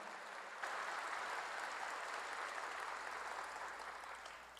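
Church congregation applauding during a sermon: soft, distant, sustained clapping that swells in suddenly and carries on steadily before easing slightly at the end.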